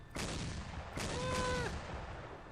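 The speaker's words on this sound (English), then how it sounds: "it's a 90mm autocannon" A 90mm autocannon in the ARMA 3 Warhammer 40k mod fires two heavy, booming shots about a second apart, each with a long rumbling tail, followed by a brief rising whine.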